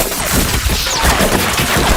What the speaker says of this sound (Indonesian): tiba-tiba ruangan mereka dihujani peluru